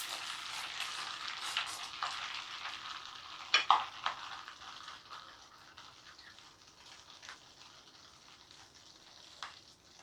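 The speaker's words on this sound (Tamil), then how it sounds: "பாருங்கள், பபிள்ஸ் நிறைஞ்சு மேலே வரும்." Butter simmering into ghee in a pan on the stove, a soft steady bubbling and sizzle with faint crackles and the occasional stir, quiet and close.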